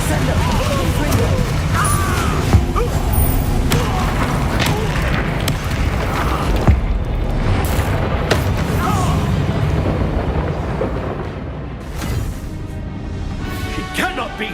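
Spell blasts from Confringo and Descendo in the Hogwarts Legacy video game: a dense run of booming impacts and crashes over a steady rumbling game soundtrack, loud and continuous, with voices faintly present.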